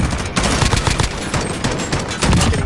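Gunfire in the video game Modern Warfare: a dense, unbroken roar of rapid automatic fire fills the whole stretch, loud and close, with no pauses.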